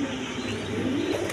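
Pigeons offered for sale, including Mili racer and red checker birds, coo softly and continuously at close range, with steady low cooing over a constant background murmur.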